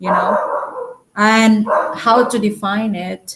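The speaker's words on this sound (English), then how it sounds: "sorry for my dog" A pet dog named Wiggle lets out a few loud, close barks and yips indoors, mixed in with someone talking.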